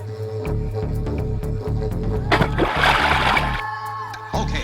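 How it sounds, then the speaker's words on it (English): Barramundi thrashing at the surface of a clear thermal spring pool during morning feeding, a burst of splashing water in the middle of the clip over steady background music. "Barramundi feeding is a popular morning attraction."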